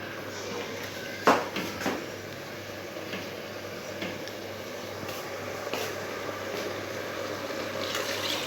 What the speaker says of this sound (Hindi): बस अब मैं साथ इसके पानी डाल दूँगी।